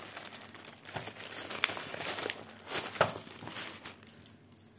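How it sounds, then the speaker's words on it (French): A plastic sachet from a cross-stitch kit torn open by hand and crinkled at close range, with scattered crackling bursts and sharp crunches over several seconds and no speech. "du coup on y craque le sachet"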